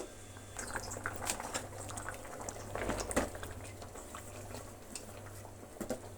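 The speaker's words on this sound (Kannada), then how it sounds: "ಚೆನ್ನಾಗಿ ಕುದಿಬೇಕು." Sambar made with egg bubbling in a pot, a soft, steady simmer of small pops and gurgles with occasional clinks, quiet and close, with no voices.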